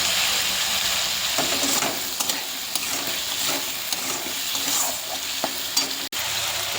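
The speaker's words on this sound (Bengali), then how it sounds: "আলুটা অনেকটা ভাজা হয়ে গেছে" Steady, loud sizzling of potatoes, onion and cumin frying in fish oil, with occasional stirring scrapes and crackles throughout.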